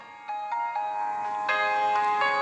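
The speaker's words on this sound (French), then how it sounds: "Et quand le téléphone sonne, il y a 2 fois" A telephone rings with a repeated electronic tone in short pulses, clear and steady, with no voices.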